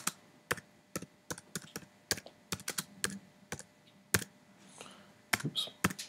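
Close computer keyboard typing while writing a forum message, with crisp individual key clicks in an uneven rhythm and brief pauses, faint hiss between strokes.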